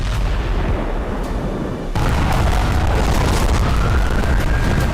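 Missile explosions in Israeli cities, heavy booming blasts and rumbling impacts with a sharp burst near the two-second mark, followed by a sustained loud roar and a faint rising whine.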